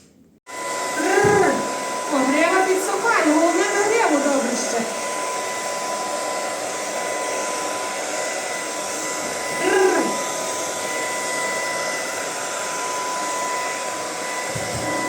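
A hair dryer drying a horse blows with a steady loud whir for the whole stretch, while people talk briefly over it near the start.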